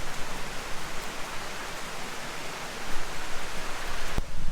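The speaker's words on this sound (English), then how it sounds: "Haven't been here for a long time, but I can hear the water." Steady broadband rush of water running over a small woodland waterfall after rain, continuous and fairly close, with a brief sharp knock near the end.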